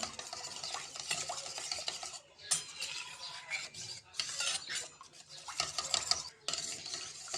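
A spoon stirs and scrapes through chili chicken ingredients mixed with normal water in a bowl, a continuous close rasping and clinking that pauses briefly before resuming.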